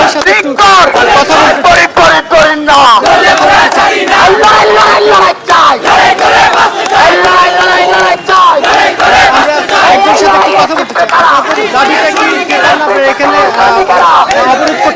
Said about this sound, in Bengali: নানান স্লোগান দিচ্ছেন